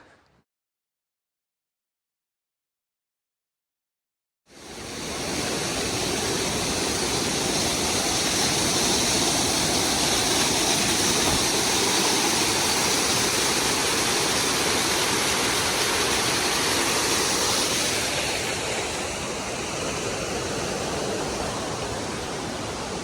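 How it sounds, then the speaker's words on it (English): Rushing stream and river water running fast on the Appalachian Trail: a loud, steady broadband roar that begins abruptly after a few seconds of silence and continues with no talking. "Every little stream, the river, and everything's just flowing super fast right now."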